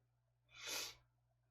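A single sharp sneeze, close and breathy, rising and falling within about half a second over a faint low hum.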